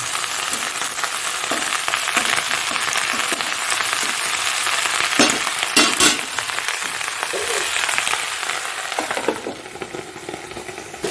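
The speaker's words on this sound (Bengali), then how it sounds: "ভালো করে নাড়াচাড়া দেবো" Cauliflower curry with tomato, salt and turmeric fries in a wok while being stirred, a steady loud sizzle broken by sharp scraping strokes of the spatula and a few clattering knocks.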